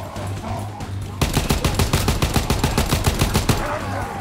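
Rapid automatic gunfire from a gun in Call of Duty, a quiet stretch then a sustained burst of evenly spaced loud shots running for about three seconds, close and dominant.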